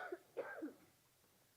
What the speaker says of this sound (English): that cough is coming back now.